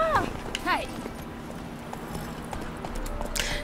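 Horse hooves clip-clop in The Witcher 3 in a few soft steps, with a brief whinny-like call near the start, under a player's speech and game background.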